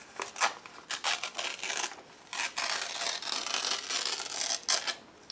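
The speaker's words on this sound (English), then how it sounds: "I would tear the piece toward myself." Paper ephemera being torn by hand for a collage: a close series of short, dry ripping and rasping bursts with brief pauses between them, fairly quiet and with no talking.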